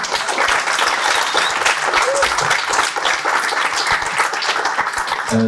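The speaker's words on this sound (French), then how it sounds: "Je voudrais un tonnerre d'applaudissements pour Étienne" A crowd at a political rally for the French Communist Party gives a thunderous ovation, dense loud applause filling the space with scattered cheers and voices mixed in.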